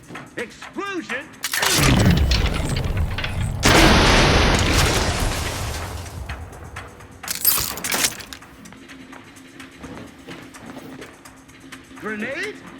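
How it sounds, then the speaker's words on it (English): Explosions from a grenade in the sci-fi shooter The Outer Worlds 2 boom loudly twice in a row, each blast a long, rumbling roar that fades slowly, with battle chatter and bird-like coos around them. "Explosion!"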